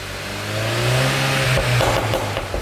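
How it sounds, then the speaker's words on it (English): VW Mk7 GTI being revved on a ramp, exhaust heard from outside: a steady mid-pitched engine note rises, then breaks into crackling overrun pops toward the end. "The overrun's a lot louder than I thought it was"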